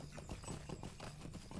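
Horse hooves clip-clop in a steady rapid rhythm while riding in the game Lord of the Rings Online, fairly quiet and continuous.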